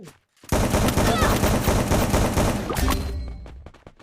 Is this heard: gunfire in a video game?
yes